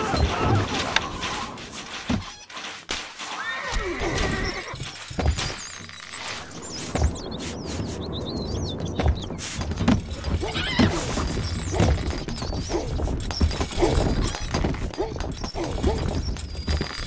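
A horse in the medieval strategy game Stronghold Crusader whinnies amid clip-clopping hooves and thuds of battle, with game voices speaking over the busy soundscape.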